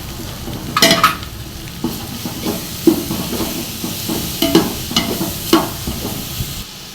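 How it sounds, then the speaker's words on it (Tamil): Ginger, garlic and onion sizzle in a hot pan for mutton biryani, with a few sharp scraping stirs of a spoon breaking through the steady frying hiss. "இஞ்சி பூண்டு வெங்காயம் எல்லாமே போட்டு வதக்கிட்டோம்."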